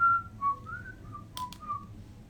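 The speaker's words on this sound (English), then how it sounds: "who's whistling that?" A short, clear whistled tune of a few sliding notes, close and fairly quiet, with a couple of brief clicks partway through.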